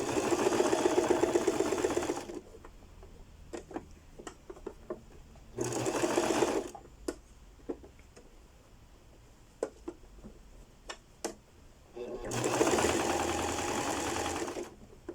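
A sewing machine stitching the back neckline of an empire-waist blouse, running in three loud, sustained bursts with quieter pauses between them filled with faint clicks and fabric handling.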